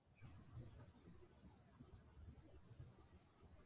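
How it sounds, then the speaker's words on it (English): Crickets chirp in a steady high trill, faint and continuous, over a low rumbling background without speech. "And I can hear the crickets."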